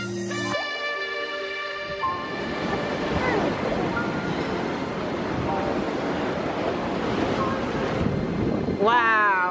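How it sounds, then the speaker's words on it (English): Water gushes and crashes against rocks on a risky high outdoor spot, a loud continuous roaring surge mixed with wind buffeting the microphone, framed by brief tonal sounds at the start and end. "The water gushes against the rocks,"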